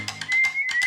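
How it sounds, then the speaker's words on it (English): Whistled melody with echo in a recorded version of a song, a bright sustained tone running through the second half over rhythmic percussive music, loud and close. "Echo on the whistle. The whistle is terrible."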